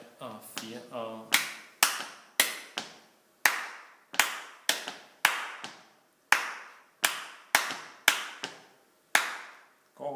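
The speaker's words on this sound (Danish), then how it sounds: "Og den rytme, den tror jeg lige, vi prøver at klappe først." Sharp hand claps in a counted rhythmic pattern, repeated evenly in a small group music lesson on guitar, loud and close with brief pauses between claps, and a short stretch of mixed sound at the start.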